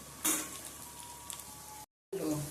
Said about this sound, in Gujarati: જો આપણો ભીંડો હજી આમાં તળાઈ જ છે